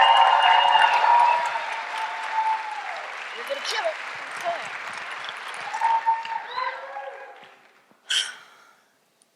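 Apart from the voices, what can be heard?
audience applause welcoming speaker Sarabeth Berk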